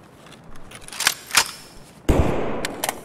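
Rifle shots from an M1A in the game Escape From Tarkov, with two distinct sharp cracks about a third of a second apart, then a sudden louder burst of noisy, rumbling activity that continues to the end.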